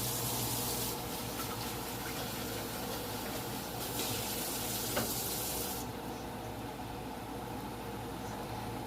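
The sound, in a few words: stirring flour and water sauce for pepper steak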